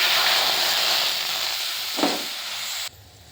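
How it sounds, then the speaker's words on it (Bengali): A small splash of water hits a hot wok, giving a loud, steady hiss and sizzle that runs throughout and cuts off abruptly near the end. "এখানে কড়াইয়ের মধ্যে দিয়ে দিলাম অল্প একটু জল"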